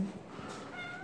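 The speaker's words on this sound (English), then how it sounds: "Well, that cat wants attention" A pet cat lets out a faint, soft meow over a steady background hum in a quiet room.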